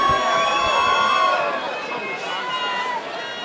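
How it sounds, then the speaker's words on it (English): Arena crowd roaring and cheering loudly and continuously at the end of a five-round Muay Thai bout, a dense wash of voices with a steady high whistle-like tone through it, the noise easing slightly toward the end. "a big round of applause for both of these men"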